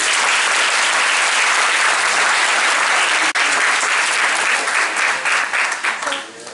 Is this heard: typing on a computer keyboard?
no